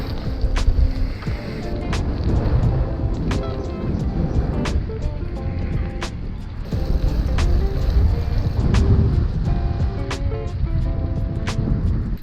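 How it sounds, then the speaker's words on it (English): Strong wind buffeting while riding a gravel bike outdoors, a continuous loud roar with gusty swells and rumble throughout, with no voices. "Oh my god, the wind!"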